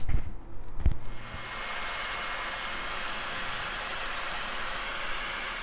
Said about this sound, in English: we're going to use the heat gun and shrink the tubes